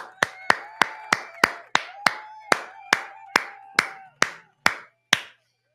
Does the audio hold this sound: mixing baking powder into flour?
no